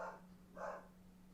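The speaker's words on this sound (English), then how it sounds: "sorry if you can hear my dog barking in the background" A pet dog barking in the background indoors, two faint separate barks about half a second apart, distant and quiet over a low steady hum, with no one talking.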